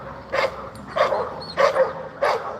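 Dogs bark loudly behind porches along a street, four distinct bursts spaced about half a second apart, close by and fairly loud against a low outdoor background.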